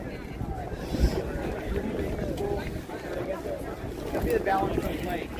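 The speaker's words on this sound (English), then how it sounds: "It's super windy." Strong wind buffets the microphone at an outdoor protest rally against Elon Musk, producing a continuous low, rumbling roar with gusty surges, and faint voices and crowd activity sit beneath it.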